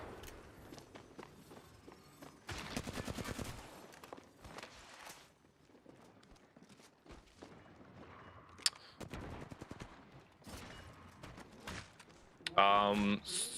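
Gunfire in the battle royale game Apex Legends, bursts of rapid automatic shots mixed with footsteps and movement, ending in a loud close volley, with a player talking at times.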